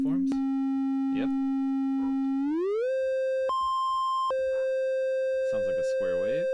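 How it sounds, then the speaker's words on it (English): A DaisyDSP synthesizer oscillator plays a steady buzzy tone that glides up in pitch and then jumps higher and back, close and constant throughout, while a voice talks briefly over it. "Sounds like a square wave."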